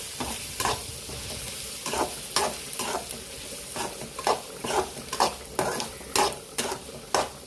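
Egg and ginger garlic paste frying in a pan, for chicken fry: a close, constant sizzle overlaid with regular metallic scrapes as a spoon stirs the pan in a steady rhythm.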